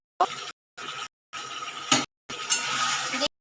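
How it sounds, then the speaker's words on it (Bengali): A spatula scraping and stirring garlic in a pan, heard as four separate short strokes with brief pauses between them, close and fairly quiet. "আমার নাড়াচাড়া করা হয়ে গেছে রসুন দিয়ে"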